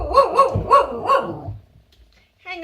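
A pet dog barks four times in quick succession close by indoors, the sharp yaps fading into quiet before a brief voice starts at the end.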